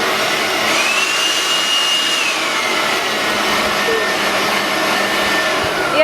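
A Makita DUB182Z 18V cordless blower runs steadily with a loud, even whoosh and a high whine that rises slightly, then holds constant before a brief click near the end.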